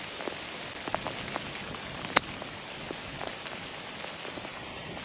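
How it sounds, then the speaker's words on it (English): Steady rain pattering on an open golf course, a soft continuous hiss with scattered louder drops and one sharp tap, heard alone without voices. "Oh, this rain is really vile."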